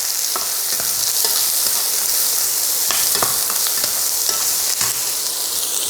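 Mustard seeds and onion fry in hot oil for Chettinad adai batter, a loud continuous sizzle broken by sharp popping crackles and scraping stirs.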